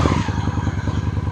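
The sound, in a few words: cheap Honda motorcycle engine starting with choke out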